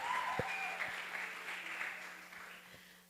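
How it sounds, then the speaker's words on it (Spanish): An audience applauds to welcome a speaker onto the stage at an innovation talk, a soft, steady wash of clapping that holds for a few seconds and slowly thins out. "Recibámosla con un fuerte aplauso."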